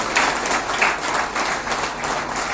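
A crowd applauding to welcome the district education officer at a farewell function, a continuous patter of many hands clapping at moderate distance, steady for the whole stretch.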